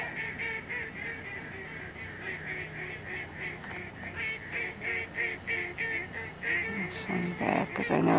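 Geese honking repeatedly near decoys during a goose hunt, a steady run of nasal calls from several birds that grows louder and busier toward the end, heard outdoors at moderate distance.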